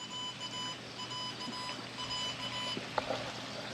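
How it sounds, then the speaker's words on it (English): A Halo 3 dog fence collar sounds a repeated faint electronic beep pattern, evenly pulsed and somewhat distant over a hissy room background, with a small knock near the end and no speech. "Oh, you can hear it beeping."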